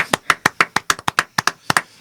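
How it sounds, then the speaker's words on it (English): Someone claps their hands about a dozen times in a quick, slightly uneven rhythm, sharp close claps with brief silences between them. "I didn't get a clap."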